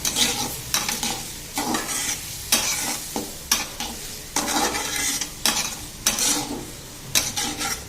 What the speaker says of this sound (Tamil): அப்படியே கிண்டி விட்டுடுங்க. கொஞ்சம் 10 நிமிஷம் இந்த எண்ணெயில் கொஞ்சம் வதங்கட்டும்.